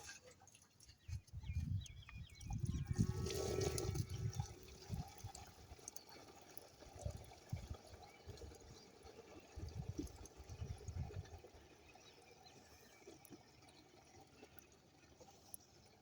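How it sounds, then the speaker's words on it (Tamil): Water runs and splashes into a sprayer tank, filled halfway to mix a spray for 30-day-old brinjal plants; a moderate gush in the first seconds eases into a steady, quieter trickle. "ஒரு பாதி டேங்க் தண்ணி எடுத்துக்கிறோம்."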